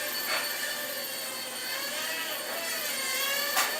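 A small Heli-Max 1SQ quadcopter flies nearby, its spinning rotors making a steady high-pitched whine and buzz that rises slightly as it turns.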